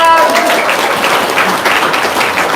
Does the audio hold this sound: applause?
yes